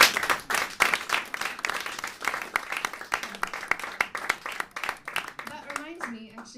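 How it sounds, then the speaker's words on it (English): Audience applause at a live concert, a dense, steady wash of many hands clapping that fades near the end, with a few voices rising over it. "Another round of applause."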